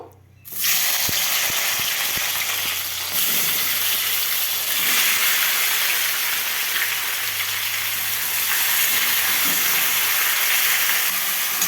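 Tomatoes dropped into hot oil tempered with bay leaf and dried chili for a tomato and grape chutney, setting off a loud, steady broadband sizzle and hiss that holds on close and unbroken from start to end, with no voices.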